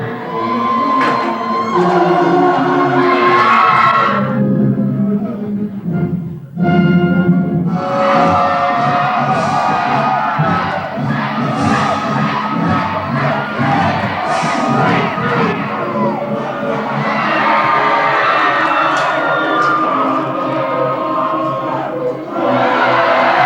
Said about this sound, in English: they cheer their knights on to victory